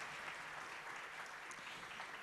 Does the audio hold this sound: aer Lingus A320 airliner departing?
no